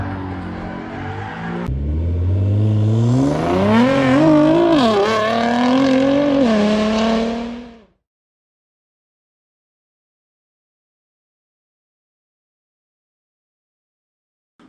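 A car doing a burnout in Assetto Corsa, played on a Thrustmaster wheel setup: a loud, sustained engine whine that climbs and wavers in pitch for several seconds, then cuts off abruptly into silence.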